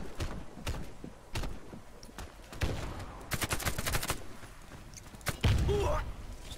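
Gunshots from the shooter game Warface come in scattered single cracks and short bursts, some close and punchy and others more distant, with a heavier blast near the end.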